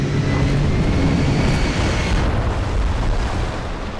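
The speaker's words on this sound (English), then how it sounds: "The crash into the water." A spaceship spinning out of control crashes into water, a loud, sustained roaring rush that holds steady and then slowly fades, no speech.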